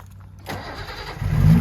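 A Series 1 1970 Datsun 240Z engine, already warm, cranks briefly after a short quiet moment, then catches and roars up loudly and close, with no voices.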